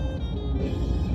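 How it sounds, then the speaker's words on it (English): A junky old car speeds past on a desert road near Ash Meadows, heard as a steady low rumble of engine and tire noise throughout, fairly close and without any talking. "In a hurry in a junky car."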